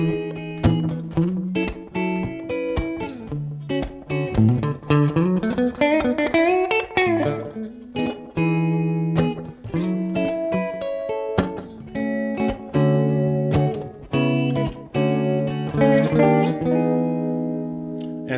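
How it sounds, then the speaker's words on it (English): A custom-built electric guitar played clean through a pedal board, ringing chords and arpeggiated notes with a sliding rising run midway, steady and fairly loud with no talking. "So right now I'm running this guitar into my pedal board."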